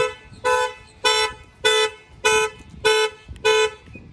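A 2020 Mercedes E350 car alarm, set off by an add-on shock sensor, blares in a steady pattern of seven loud, evenly spaced honking bursts with brief pauses between them.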